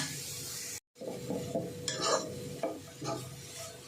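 A spoon stirs grated carrots sautéing for carrot halwa in a pan, with scraping strokes and clinks against the metal over a soft sizzle after a brief pause.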